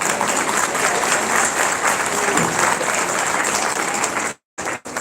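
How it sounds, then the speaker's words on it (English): A room full of people at a Diwali celebration applauds, steady dense clapping close by that cuts off abruptly near the end. "Thank you for a round of applause too"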